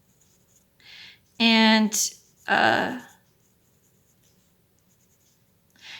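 Pencil drawing and shading shadows on paper for a face: short, soft scratchy strokes, close and quiet, around a brief stretch of a voice talking.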